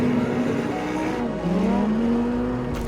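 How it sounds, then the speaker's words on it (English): A Lamborghini Huracán Sterrato with a naturally aspirated V10 drives close by, its engine droning steadily and loudly with a brief dip in pitch before climbing again, with no one talking. "we have a natural aspirated V10 engine"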